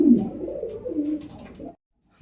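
Pigeons at a farm in Gazipur, Bangladesh, including Lahori pigeons, give close, loud throaty coos in a continuous rolling stretch that stops abruptly into silence.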